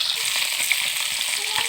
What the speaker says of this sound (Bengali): এই তো এখন তরকারি রান্না করার জন্য মাছটা ভেজে নিচ্ছি।